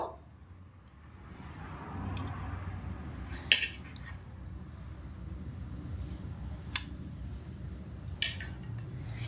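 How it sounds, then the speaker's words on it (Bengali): Boiled cauliflower, potato, chilli and tomato moved onto a plate, heard as a few sharp utensil clinks spaced seconds apart over a faint, steady kitchen background. "ফুলকপি, আলু, লঙ্কা, টমেটো সবই থালার মধ্যে নিয়ে নেব।"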